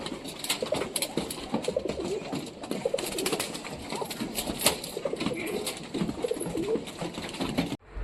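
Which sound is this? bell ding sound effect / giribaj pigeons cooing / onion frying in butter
giribaj pigeons cooing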